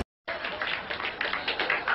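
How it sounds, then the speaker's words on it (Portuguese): A crowd of fans at a Harry Potter premiere bursts into applause after a moment of silence, with close, lively clapping that continues to the end. "Palmas"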